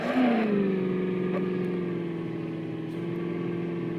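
A Mahindra Thar Roxx engine hums in Indian Vehicle Simulator while the vehicle makes a U-turn. Its tone drops at first, then holds a smooth, steady note.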